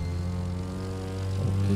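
A propeller airplane engine drones steadily in The Crew 2. The tone is loud and sustained, with a slight pitch shift near the end. No one speaks.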